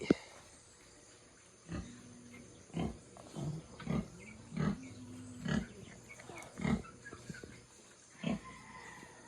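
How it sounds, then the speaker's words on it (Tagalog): Pet piglets resting after feeding let out a series of about a dozen short grunts and oinks, spaced irregularly and close by, with quiet background between them. "Tulog na yung ating mga alagang biik abi."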